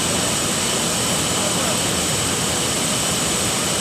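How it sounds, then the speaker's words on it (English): Ground power units hum and roar continuously beside a parked aircraft on the static display at an airshow, a loud steady broadband drone that stays constant throughout. "She's being powered by these ground power units."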